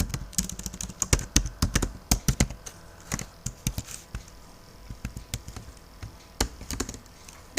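Fingers tap on a computer keyboard while writing HTML, close, crisp keystrokes in uneven bursts and pauses, with no voices.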